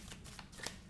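Tarot cards shuffled for a nine-card spread, a quick soft riffle of papery flicks, close and quiet, heard alone.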